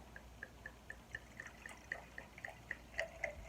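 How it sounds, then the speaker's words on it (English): Muscadine wine poured from a freshly opened bottle gives a quiet, steady run of soft drips and glugs, evenly spaced and close by, with no talking. "We're going to go ahead and bust this wine open."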